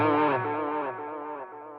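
Electric guitar through a Line 6 Catalyst 100 amp with the transistor tape delay effect: a sustained, distorted chord rings out and slowly fades with smeared repeats, with no talking.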